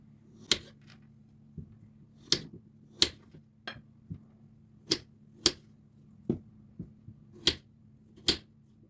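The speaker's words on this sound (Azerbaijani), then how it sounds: "Sonra tərəvəzləri doğrayıram." Potatoes are chopped on a board, sharp isolated knife strikes landing at irregular intervals about a second apart, close and fairly quiet over a low steady hum.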